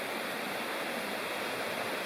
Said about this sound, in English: Here's Ball River, just down below my campsite.